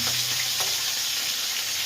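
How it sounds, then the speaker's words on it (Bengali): Fish sizzling as it fries in a pan of oil, a steady bright hiss that runs without a break through the short clip, close and fairly loud, with no voices. "এখানে মাছ ভাজা হচ্ছে"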